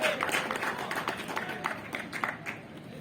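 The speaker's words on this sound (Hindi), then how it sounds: "जोरदार तालियां का स्वागत कीजिए" An audience claps through a volleyball tournament prize ceremony: steady, crackling applause that fills the whole stretch at a moderate level, with faint voices mixed in.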